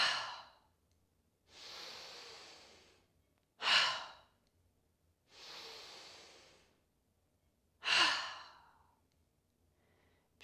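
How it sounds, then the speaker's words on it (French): Yoga breathing, three slow breaths in through the nose and out through the mouth, with soft hissing nasal inhales alternating with louder, sighing mouth exhales, close and clear in a quiet room. "on va venir faire 3 inspires par le nez,"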